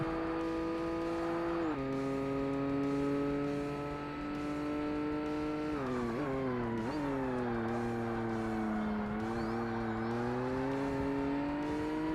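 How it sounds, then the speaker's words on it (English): A race car engine in the Forza Motorsport video game holds a steady, loud whine that shifts pitch in steps as gears change, rising and falling through the revs without any voices. "It actually revs up a little bit higher than I first thought."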